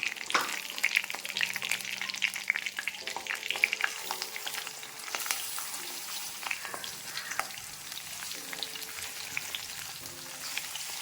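Steady sizzling of fish frying in spiced paste in a hot pan, with occasional stirring scrapes and crackles, close and continuous with no talking.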